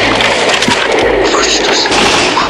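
Battle sounds from the 1969 war film Hannibal Brooks, a dense, loud wash of gunfire and rumbling blasts with sharp cracks.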